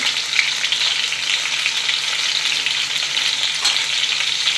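A Marathi-style tempering of spices, chillies, salt and turmeric sizzling in hot oil, a loud, steady, close crackle with occasional stirring and no talking.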